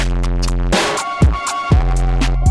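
A loud, heavily distorted beat with booming kicks and crunchy, saturated hits repeating at a steady pace, harsh and buzzing throughout.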